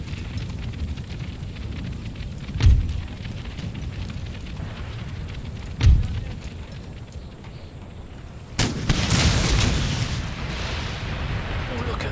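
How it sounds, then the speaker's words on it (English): Artillery gunfire in Empire Total War: two sharp booms a few seconds apart over a busy rumbling battle bed, then a harsher, sustained crackling burst of fire, with a voice talking throughout. "Look at that gunfire there on the hill here."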